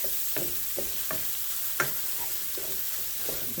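Sausage browning in a frying pan for gravy, with a soft steady sizzle broken by several distinct scrapes and stirs of a utensil against the pan, close and moderately quiet.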